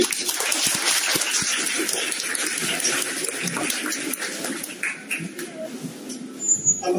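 Sustained, dense applause from an audience in a college hall in Zaheerabad during a lecture on dowry. The clapping is fairly loud and continuous, thinning slightly toward the end, with no clear talking over it.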